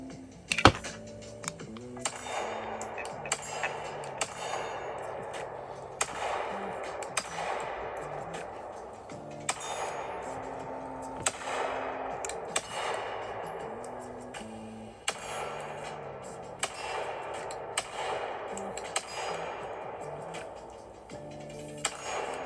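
Pistol shots from a Bull Armory SAS2 UL, a compact flat-trigger handgun without red dot or compensator, firing 115 grain Fiocchi ammunition through a magazine: a long string of sharp, fairly distant cracks at irregular intervals over a steady tonal background.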